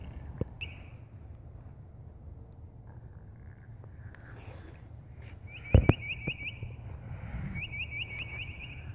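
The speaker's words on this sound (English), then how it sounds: "Hear those birds chirping." Faint, repeated high chirps from birds in the distance over a low rumbling background, with a brief knock partway through.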